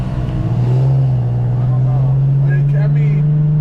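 Infiniti G37 exhaust rumbling through its muffler, a loud, close, steady drone that holds a constant pitch for a few seconds with no talk over it.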